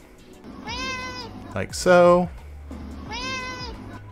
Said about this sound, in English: I recorded some, you know, different sounds of Eliza meowing.